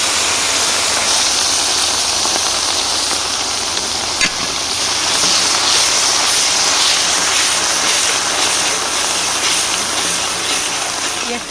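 Chopped onions hit hot oil, already tempered with black cumin and dried chillies after fish was fried in it, and set up a loud, steady, close sizzle that continues unbroken.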